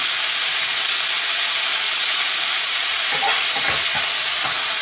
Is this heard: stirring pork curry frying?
yes